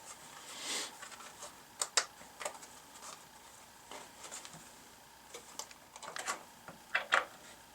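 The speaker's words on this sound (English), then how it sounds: "now we're going to go ahead and rivet." Riveting a Kydex holster at a workbench produces sparse, sharp, close clicks and taps at irregular intervals, with a few louder snaps among quieter ticks and no talking.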